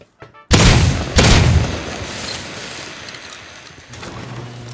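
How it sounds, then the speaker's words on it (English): A flashbang grenade goes off in a video game, one sudden loud blast followed by a second thump and a long noisy ringing decay that trails off under steady background din. "Whoa, flashbang!"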